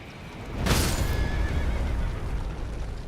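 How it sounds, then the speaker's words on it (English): A horse in Elden Ring lets out a sharp, loud neigh as it is killed, followed by a steady rumbling wash of game ambience. "No, you killed my horse."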